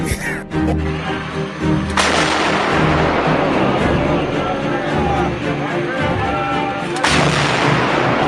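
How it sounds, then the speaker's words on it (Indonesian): Heavy cannon fire booms out in repeated loud blasts amid a dense battle din in a school colossal drama stage performance, with shouting voices mixed into the chaos. "Tembakan meriam ke arah banteng."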